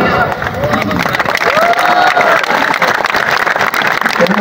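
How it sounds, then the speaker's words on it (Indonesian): Large crowd at an outdoor religious gathering in Riau applauding and cheering loudly, a dense continuous roar of clapping and voices with a rising shout in the middle. "Orangnya ragu-ragu tepuk tangan."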